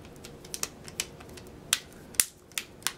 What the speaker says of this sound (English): just slipping this back cover on